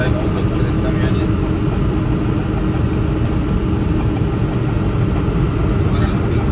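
Truck engines rumble steadily as three trucks drive along a rural road carrying cattle, a continuous close low drone with road noise throughout and occasional voices beneath.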